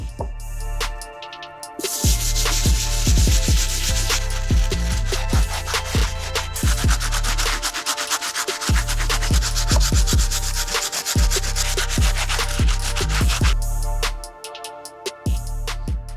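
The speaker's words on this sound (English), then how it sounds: "we're gonna be using our Stiff Bristle Brush to finish off with the soles" Stiff bristle brush scrubbing the soles of an Air Jordan Flip 3 sneaker during cleaning, loud continuous rapid rasping strokes with brief pauses near the start and end, no voices.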